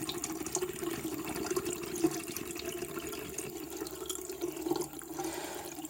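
Collected water is tipped out of the tank of an Ebac PowerPac dehumidifier, a continuous trickling, splashing pour that holds steady at moderate volume, with no speech.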